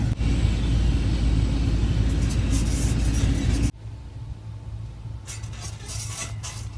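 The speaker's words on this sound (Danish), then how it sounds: "jeg tror det er en traktor-ting" A tractor engine rumbles close by as a steady, loud low drone, then drops to a quieter, thinner idle-like hum partway through, with faint higher clatter over the top.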